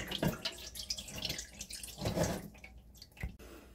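Washed sangchu (Korean lettuce) leaves sit draining in a kitchen, with scattered drips and trickles of water falling from them in soft, irregular bursts, fairly faint and close, with no talking.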